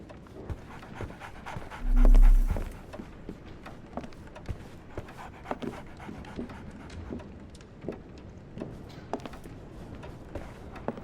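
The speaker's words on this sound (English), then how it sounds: "So, Barnes has a dog now." Dog panting in the video game Sherlock Holmes: The Awakened, a quick steady rhythm of soft close breaths running throughout, with one brief louder thump near the start.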